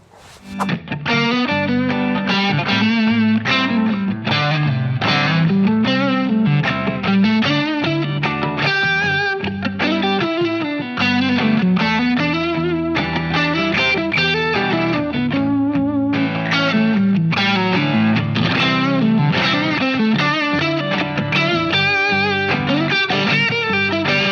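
A distorted electric guitar plays a continuous lead line over backing chords, loud and saturated, with fast melodic runs and sustained notes.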